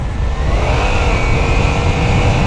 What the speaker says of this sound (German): Da dreht aber das Hinterrad durch.